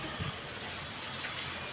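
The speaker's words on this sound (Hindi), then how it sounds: "मेरे पीछे देख सकते हैं फ्रेंड कितनी ज़ोर से बारिश हो रही है" Heavy rain of fat, large drops pours down steadily, a dense close hiss with scattered individual splats, and no one speaks.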